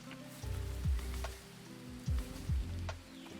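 Rain falls in the jungle survival game Green Hell, a steady soft patter over a low ambient bed, with a few deeper thumps and swooping low sounds breaking through.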